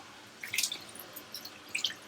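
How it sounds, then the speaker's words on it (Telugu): Water poured into a pan of potato, capsicum and tomato curry, heard as a few light splashes and drips spaced out over a quiet background. "ఆలుగడ్డ ఇప్పుడు వాటర్ పోసుకుందాం"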